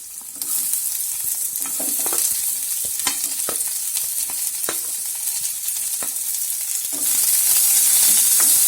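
Steady loud sizzling of onions and ginger frying in hot oil, with occasional scrapes of a spatula stirring the pan throughout.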